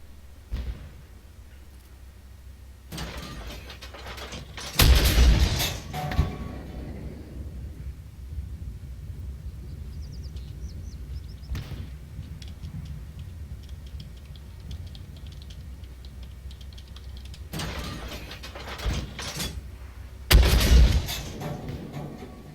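M109 self-propelled artillery in the tank game Armored Warfare fires at a tank destroyer, giving two heavy, loud booms several seconds apart, each with a rumbling tail over a steady low engine drone.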